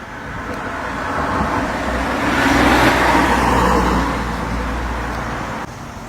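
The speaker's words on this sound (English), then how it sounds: "A couple of Mercedes drove by." Several Mercedes cars drive past on a city street, a steady broadband roadway rumble that swells to a peak near the middle and slowly recedes, continuous traffic noise with no voices.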